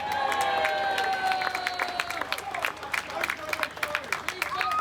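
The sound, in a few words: applause for a man called on stage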